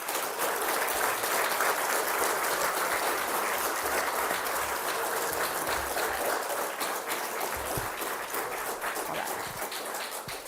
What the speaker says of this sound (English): let's give everyone that's here for the readathon tonight a very well-deserved round of applause